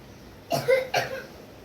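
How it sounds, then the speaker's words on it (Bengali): A person coughs twice indoors in a home kitchen, two short, fairly soft bursts about half a second apart against a quiet background. "কাশি আসছে"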